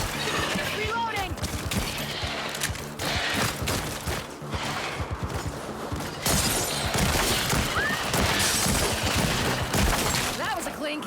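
Rapid bursts of gunfire in a video game, loud, dense volleys of sharp cracks and bangs stacked closely together throughout, with voices talking over the shooting.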